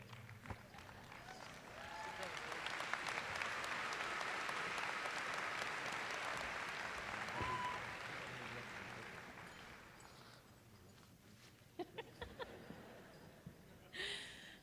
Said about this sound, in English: Let's give another round of applause to these amazing speakers